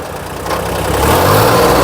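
A Kubota L2000 tractor engine revs up, its rumble rising and growing louder over a couple of seconds, close by with no talking.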